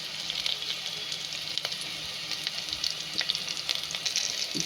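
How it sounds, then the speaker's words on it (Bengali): Pointed gourd and potato pieces fry in a pan with a steady, soft sizzle, broken by occasional faint stirring clicks. "পটল আর আলুটাকে দুটোকে ভালো করে ভাজতে হবে"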